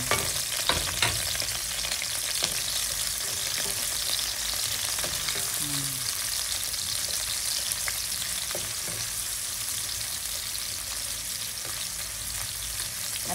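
Onions frying in a pan, a dense, continuous sizzle that holds steady and loud throughout, with a few faint clinks and no speech.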